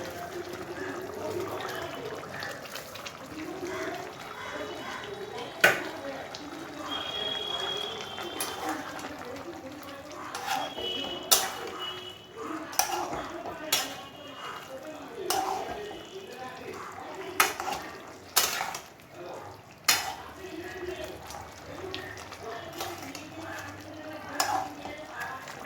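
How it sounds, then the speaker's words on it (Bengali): Fried potatoes dropped into simmering chicken curry gravy, soft bubbling and stirring with scattered clinks and splashes of pieces landing in the pot, fairly quiet throughout. "যেহেতু ঝোলটা এবার একটু ফুটে ফুটে গেছে, তাই এই ভাজা আলুগুলো এবার দিয়ে দেবো এর মধ্যে।"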